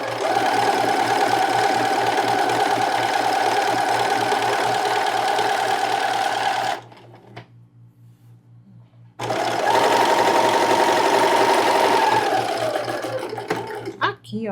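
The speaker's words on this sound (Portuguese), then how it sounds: "Agora vamos passar nossa outra costurinha escondendo aquela margem pequenininha que a gente fez." A sewing machine stitches a seam on child's pajamas in two long, fast, steady runs of rhythmic whirring, separated by a quiet pause of about two seconds, with someone speaking over the work.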